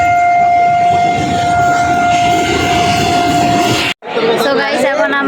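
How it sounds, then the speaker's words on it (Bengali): A train passes close by with a sustained horn blast over a rumbling, hissing roar and crowd chatter. The sound cuts abruptly, leaving nearby people talking. "ট্রেন"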